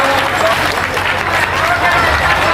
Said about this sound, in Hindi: एक बार तालियों की गड़गड़ाहट से